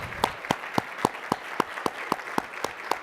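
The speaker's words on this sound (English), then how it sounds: "Can we give Drew one more round of applause?" Audience applause at a talk on political messaging and health, heard as a steady wash of many hands clapping with regular sharper claps cutting through, moderately loud and continuous, with no voices.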